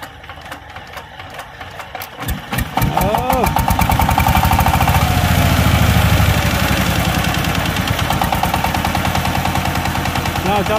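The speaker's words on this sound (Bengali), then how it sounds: "আমি রিপেয়ার করার পরে ইঞ্জিনের সাউন্ডটা কেমন হলো। এটা দেখুন" A repaired Sigma power tiller engine starts after a quieter opening and settles into a loud, fast, steady chugging putter at close range. Voices are heard briefly early on.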